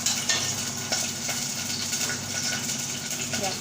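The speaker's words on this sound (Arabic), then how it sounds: "هنسيب بقى الرز كده نقعد نشوح فيه شويه" Rice sautés in a pot, a spoon scraping and stirring through an ongoing sizzle, with a soft hum beneath and faint voices in the background.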